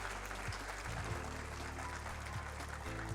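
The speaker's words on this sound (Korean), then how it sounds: "큰 박수 보내주시기 바랍니다" Audience applause at a science and ICT day award ceremony, a continuous broad patter of many hands clapping, heard fairly distant and quiet against a low hum in the room.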